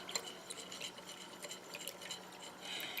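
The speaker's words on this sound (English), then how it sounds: "slowly add the remaining cup of water into this mixture while stirring" A spoon stirs water into a clove gel room freshener mixture, with soft, quiet clinks and swishes against the container at irregular intervals.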